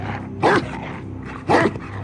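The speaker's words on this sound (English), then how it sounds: "Mike, did you move your damn dog? What is it, boy?" A dog in a movie scene gives two short, loud barks about a second apart, standing out over a low background rumble with no talk.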